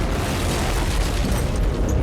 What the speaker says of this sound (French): Le puits d'aération est rempli de blocs de C4. L'explosion qui s'ensuit est dévastatrice.